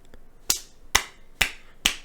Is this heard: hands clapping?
yes